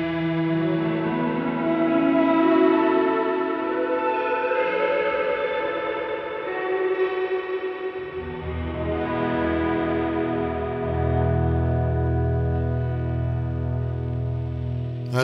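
Heavy reverb from a Sonicake Matribox multi-effects unit set fully up, washing over sustained guitar chords into a dense, shimmering tail that swells and lingers continuously, loud and close, with no talking.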